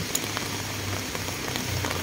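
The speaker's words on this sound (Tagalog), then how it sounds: "Grabe, lakas ng ulan." Heavy rain pours steadily around a cable car ride up toward Namsan Tower in Seoul, a dense, even hiss of drops with small patters on nearby surfaces, close and continuous, with no talking.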